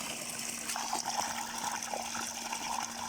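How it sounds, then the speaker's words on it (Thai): Water gushes steadily from a two-inch pipe fed by a 1000-watt solar submersible pump, a continuous splashing rush with a faint steady hum beneath, close and unbroken with no voices. "นี่ครับน้ำมวลน้ำที่ออกมาครับ ท่อออกเต็มท่อครับสองนิ้วครับ"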